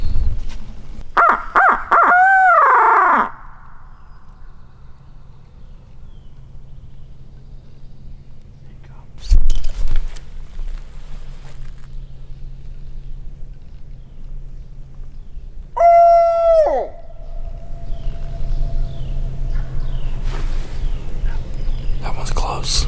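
A wild turkey gobbles on Florida public land in two loud, rattling bursts near the start and middle, set against a quiet woodland background with faint low hum.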